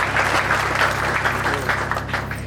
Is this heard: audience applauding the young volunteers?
yes